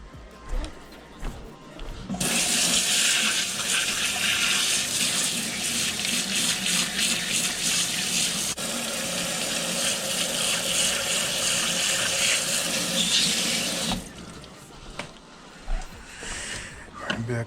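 Tap water runs steadily into a sink for about twelve seconds while a trout is washed out during cleaning, starting and stopping abruptly, with quieter handling noise before and after.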